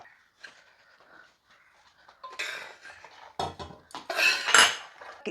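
Spoon scraping and clinking in a pan while jaggery, coconut and beaten rice are stirred together, starting with light scratches and building into louder metallic scrapes and knocks toward the end, close by with no talking.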